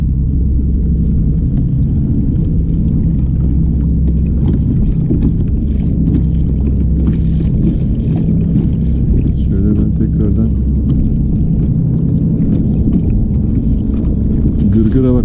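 A fishing boat's motor runs at full throttle, a loud, steady, close rumble that holds for the whole stretch, with wind buffeting over it.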